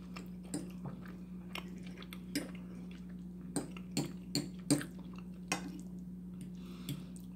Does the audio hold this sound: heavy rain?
no